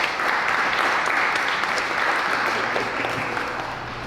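Applause from an audience at a Future Plainfield community meeting, a full, even wash of clapping that holds steady and tapers slightly toward the end.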